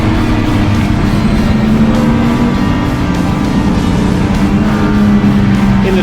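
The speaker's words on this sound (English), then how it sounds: "In the Triumph Challenge the cars are released in order of speed, so cars that Paul are passing" A Triumph TR6 racing in the Triumph Challenge gives a steady, loud engine drone at speed, heard from inside the car with a continuous roar and no talk.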